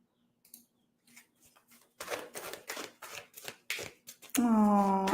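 Tarot cards shuffled by hand, a run of soft, quick riffling flicks that grow louder and denser toward the end, followed by a voice starting to speak.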